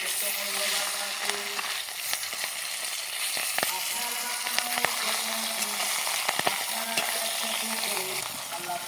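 Pieces of katla fish frying in hot oil, a steady close sizzle with occasional stirring scrapes and clinks, a faint voice now and then in the background.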